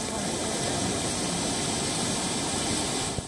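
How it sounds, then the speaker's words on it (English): A fire engine idles in a flooded street in southern China, giving a continuous broad engine drone mixed with hissing noise, steady and fairly loud throughout with one small knock near the end. "Look at this fire engine."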